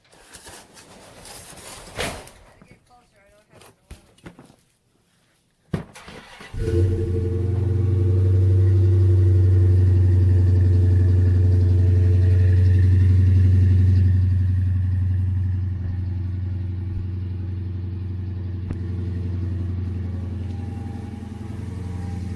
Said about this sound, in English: can't wait to take it for a ride wherever around the block. No, got to get on the freeway.